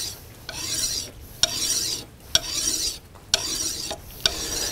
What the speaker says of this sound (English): now I've just been giving it a final sharpening with a carborundum stone